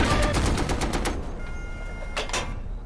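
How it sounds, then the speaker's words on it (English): A tank machine gun rattles in the Red Orchestra video game, a rapid loud burst of about eight evenly spaced shots, then a pause and a short two-shot burst, with no talk. "shoot machine gun in there if you can"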